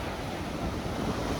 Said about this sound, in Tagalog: Lakas pa din ang alon.